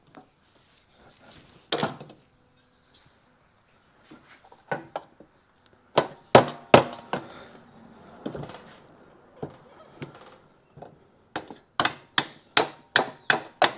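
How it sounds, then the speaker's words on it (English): Sharp metallic hammer blows drive a bolt into a Yamaha HS1 90 twin motorcycle frame in a workshop, with scattered single knocks early on and then a quick run of loud, close strikes near the end. "Somebody whack that bolt in there for me"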